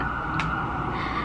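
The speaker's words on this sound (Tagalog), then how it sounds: "pasensya na kayo sa wangwang, no? That's normal in our neighborhood." An emergency vehicle siren sounds somewhere in a residential neighborhood as a steady, moderately faint wail holding one tone over low background noise.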